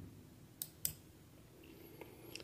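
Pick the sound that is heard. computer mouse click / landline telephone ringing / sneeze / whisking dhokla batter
computer mouse click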